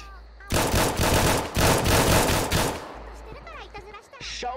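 Loud, rapid automatic gunfire blasts through a wall in a video game in two long sustained bursts, then cuts off to quieter sounds and brief talk.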